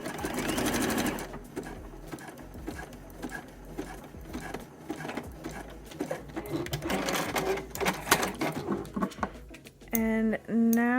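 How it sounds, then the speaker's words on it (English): A sewing machine stitching the back seam of a string-back garment with a quarter-inch seam allowance, close and steady, with a short whirring run and brief stops near the end. "we're going to stitch them together with a 1/4 inch seam allowance"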